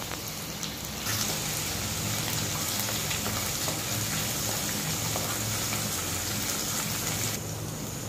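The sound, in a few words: thecha chili-garlic paste sautéing in oil for prawn curry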